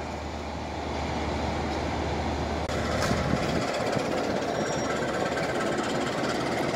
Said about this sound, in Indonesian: kereta api perantaran dari arah Surabaya menuju Blitar berpapasan dengan kereta api tangki BBM di Stasiun Lawang